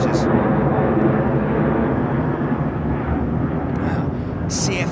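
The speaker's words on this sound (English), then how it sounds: "737. Nice. It's a noisy old thing, isn't it, eh?" CFM-powered Boeing 737 taking off at London Heathrow, a broad continuous jet roar at some distance, with voices talking faintly over it.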